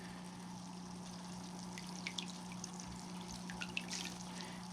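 A spawning mop pulled from a 55-gallon pleco breeding tank being lightly squeezed, giving soft, close trickles and scattered drips of water over a steady low hum, with no talking.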